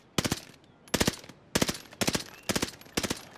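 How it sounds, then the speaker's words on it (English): Marco 5 submachine gun fitted with a burst barrel firing in Warzone, six loud rapid bursts of several shots each, evenly spaced with short gaps between them. "The Marco 5 has a burst barrel."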